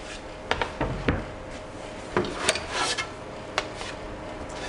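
Deep-sawn guitar tonewood boards are handled and laid open for book matching, giving scattered light wooden knocks, taps and rubbing scrapes, close and moderately quiet, with no voices.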